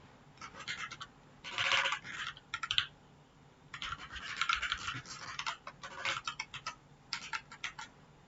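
Bursts of quick clicking keystrokes on a computer keyboard, typed in short runs separated by brief pauses, close and quiet with no talk.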